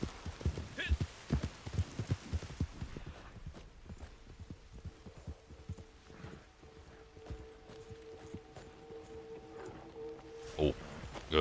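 Irregular hoof clip-clops from a walking horse in Red Dead Redemption 2 Online, fairly quiet, with occasional speech mixed in and a soft hum in the background.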